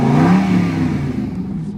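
A 2014 Aston Martin V8 Vantage 4.7 N430 with SportShift II gearbox gives a short, loud rev close up, the V8 note swelling quickly and then settling back toward idle.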